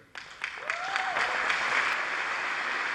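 Audience applause swells quickly and holds steady, a dense spread of clapping hands from a sizable crowd, fairly close and loud, with no clear talk over it.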